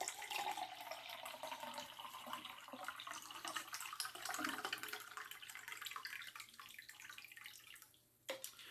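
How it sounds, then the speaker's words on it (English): Shaken spicy hot cocktail poured from a shaker into a glass, a steady liquid splashing and trickling stream, close and fairly quiet, thinning toward the end. "pour this all"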